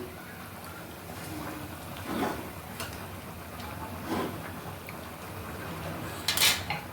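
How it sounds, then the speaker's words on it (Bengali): Spinach greens stirred into a pan with pangas fish heads, producing faint, scattered spoon clinks and soft rustles over a steady low hiss, close but quiet. "এখন আমি এই শাকগুলো দিয়ে দিচ্ছি এখন একটু নাড়িয়ে চাড়িয়ে দেই"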